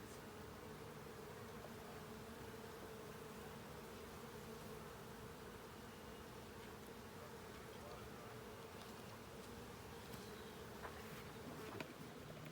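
Honey bees buzz steadily in an open hive during checkerboarding for honey production, a dense continuous drone with faint handling noises near the end.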